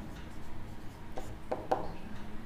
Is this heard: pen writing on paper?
yes